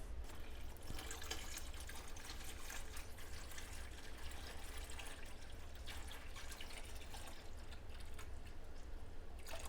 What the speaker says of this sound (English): So we're gonna go ahead and pour this one back into the larger vat.